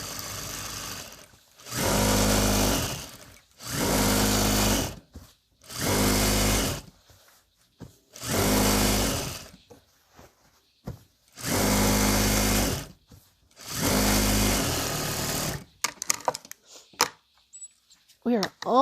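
A sewing machine stitches a baby quilt in repeated bursts of steady motor whir, each lasting a second or two with short pauses between, close and clear, ending with a few quick stitches and small handling noises.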